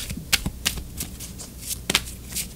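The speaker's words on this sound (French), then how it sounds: "on va tirer" An oracle deck is shuffled and a card drawn, giving quiet crisp riffling snaps in a loose rhythm of about five sharp bursts over a soft background, with no one speaking.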